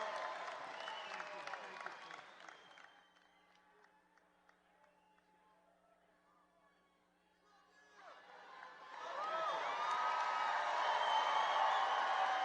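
Rally crowd at a Trump campaign event in Florida applauds and cheers loudly, fades to near quiet in the middle, then surges back into sustained clapping and whooping.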